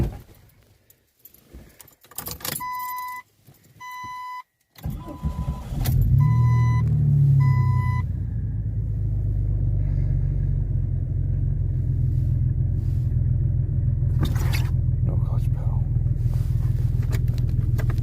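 A Jeep Cherokee with an automatic transmission starts up after keys jingle and several chime beeps sound. Its engine then settles into a steady, loud idle rumble that lasts to the end, with a brief clunk partway through.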